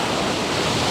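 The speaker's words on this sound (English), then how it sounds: "get those waves crashing across the rock" Ocean waves crash against rock in bright sun, a steady loud wash of surf filling the whole second with broad roaring noise and no pause.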